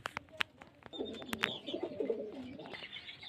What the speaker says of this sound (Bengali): এই যে পায়রা কলটি দেখুন